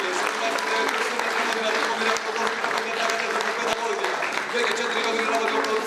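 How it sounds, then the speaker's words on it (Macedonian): Steady applause fills a poetry slam hall in Prilep for six seconds, a dense, even patter of many hands at moderate volume with no voices over it. "Еден аплауз"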